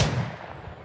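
A single gunshot from the video game The Oregon Trail, a sharp, loud report with a low booming body that decays quickly over under a second.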